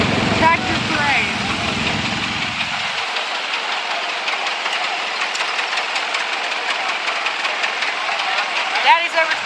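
A Chevy small block V8 in a muscle tractor idles steadily at a tractor parade, a rough low rumble that drops away after a few seconds, leaving outdoor crowd noise and chatter.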